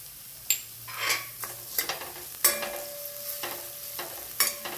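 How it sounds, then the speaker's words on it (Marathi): Tomatoes fry with onions in a pan as a soft sizzle under repeated stirring, with scattered clinks of a utensil against the pan, quiet and close, and no talk. "टोमॅटो पण मऊ होईपर्यंत भाजून घेऊया।"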